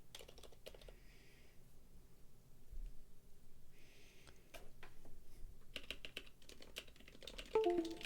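Typing on a Heavy Grail mechanical keyboard, with quiet, close key clacks in irregular bursts and short pauses, rather faint against a low background.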